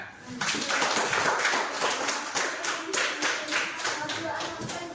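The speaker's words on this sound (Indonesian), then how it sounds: "ya bagus, tepuk tangan" Students in a classroom break into applause, a dense burst of many clapping hands that stays loud for several seconds before gradually thinning out.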